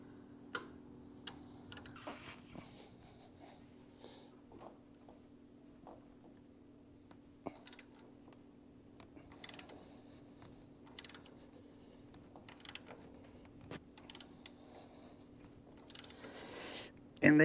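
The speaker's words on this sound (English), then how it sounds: "I'm using a 5/16 inch socket with a 6-inch extension, 3/8 inch drive ratchet." A 3/8-inch-drive ratchet turns a 5/16-inch socket on a 6-inch extension, loosening tightly Loctited hex-head floorboard bolts on a Harley-Davidson. Faint, scattered sharp clicks come in short bursts over a low steady hum, with no talking.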